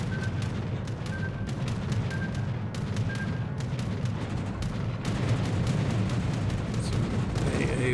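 Anti-aircraft guns firing in World of Warships aboard the British tier 8 premium heavy cruiser Cheshire, a dense, continuous rumble of rapid flak bursts and booms that runs steadily throughout without pause.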